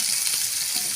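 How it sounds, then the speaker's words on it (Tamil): Loud, steady sizzling of chopped onion frying in hot oil, a continuous bright crackle close by. "நல்லா வதக்கி விட்டுக்கலாம்."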